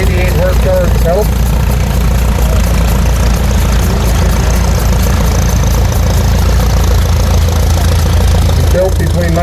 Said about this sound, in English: Just coming through the gate, we have a John Deere D gas tractor, WDM, 1938 model